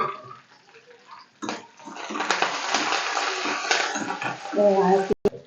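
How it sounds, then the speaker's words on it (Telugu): Cumin, green chilli and curry leaves crackle in hot tempering oil for jeera rice, a dense, steady spitting hiss that swells after a quiet start. A voice speaks briefly near the end. "తాలింపు అంతా వేగిన తర్వాత జీలకర్ర చిటపట్లు ఆడుతుంటుందండి"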